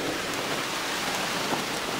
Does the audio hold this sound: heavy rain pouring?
yes